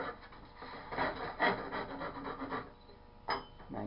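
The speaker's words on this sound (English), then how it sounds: "I go back and forth with a little bit of filing here" Hand file rasping back and forth over the end of a wooden post, shaping a dowel tenon, in close, rhythmic rubbing strokes with short pauses between passes.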